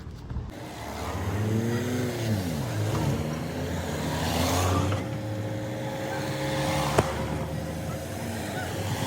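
Cars in a long wedding convoy at a Bishnoi community wedding drive off, engines rising and falling as vehicles pass nearby, with a steady rumble of traffic and a brief horn-like tone late on.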